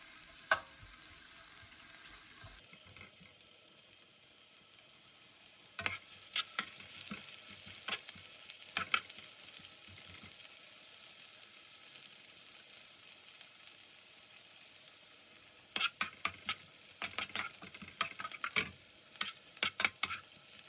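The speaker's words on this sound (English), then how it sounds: "add the finely sliced onions. Fry for a couple of minutes until they just start browning, stirring frequently" Sliced onions fry in a non-stick pan with a steady low sizzle, broken by clusters of scraping stirs from a spatula, near and moderately quiet, with no voices.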